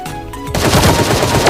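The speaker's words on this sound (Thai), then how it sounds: "มีการยิงกันครับทุกคน" Rapid gunfire in the Sausage Man battle royale video game, beginning after a brief quieter stretch and then bursting into dense, loud, sustained shooting that continues to the end.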